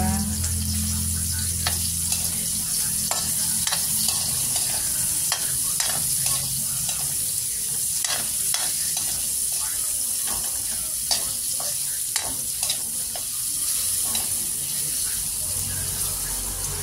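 Ginger, onion and garlic sauté in a pan with a steady, close sizzle, broken by repeated sharp scraping strokes of a utensil stirring throughout; a voice talks briefly over it.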